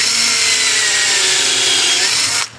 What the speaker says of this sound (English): I'm going to drill a hole for the screw chuck